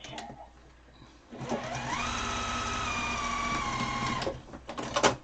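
A sewing machine runs a cross stitch on a fabric mask, starting after a brief quiet with a steady close mechanical whir and rhythmic needle chatter for about three seconds before stopping, with small handling clicks afterward.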